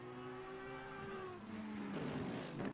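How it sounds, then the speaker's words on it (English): Video game race car engines at the Misano circuit drone and rise in pitch together, a steady revving roar with no voices, fairly faint and distant. "You can hear those motors fire up"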